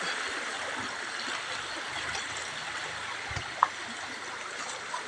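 Stream water flowing steadily at a cold river bathing spot, a continuous broadband rush with a faint splash or two, no talk.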